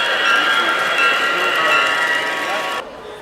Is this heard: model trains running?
yes